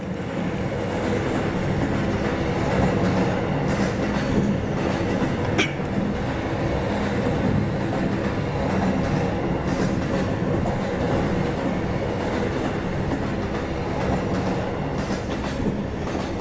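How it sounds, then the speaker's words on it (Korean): A train runs steadily along the rails with a continuous loud rumble and faint rhythmic clatter of wheels, heard alone without any talk. "네, 열차가 이렇게 쉬지 않고 달려왔습니다."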